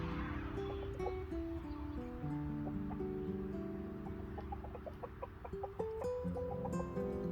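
A flock of free-range chickens clucks and murmurs steadily throughout, with overlapping soft calls at moderate distance over a constant background hum.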